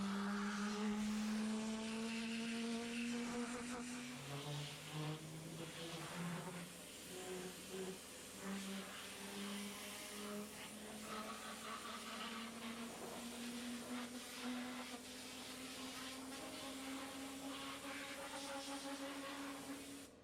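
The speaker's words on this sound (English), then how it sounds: "I have the Griot's Garage Air Pulse, and I'll use that to blow the grittiest particles from the engine compartment." A Griot's Garage Air Pulse blower dries a car engine bay with a steady airy hiss and a motor whine that shifts slightly in pitch, faint and continuous throughout.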